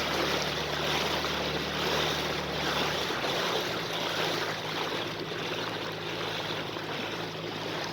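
A steady broad rush of water and engine-like drone from a boat on the Dniester River at Bakota, continuous and fairly close, with wind noise and no talking.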